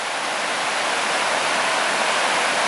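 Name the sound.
small waterfall along a river gorge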